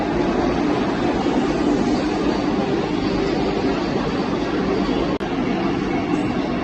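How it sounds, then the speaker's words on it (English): A heavy, continuous rumble of a Vande Bharat Express train arriving at a station, broadband roar steady throughout with a brief dip near the end. "Bharat Express is entering the station."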